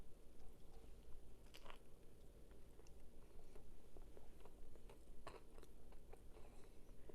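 Someone bites and chews a carrot hot dog topped with caramelized mustard and crispy onions, with soft, close crunches and wet chewing spread across the clip over a low background hum.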